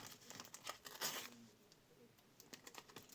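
A paper surprise packet crinkles and tears close up, making crisp rustling bursts in an uneven rhythm, quiet and with no voices.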